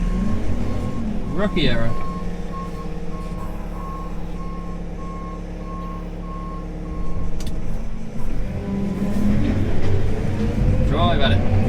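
A loader backs up through slurry with a steady, loud reversing beep over a rumbling diesel engine, while a voice speaks briefly.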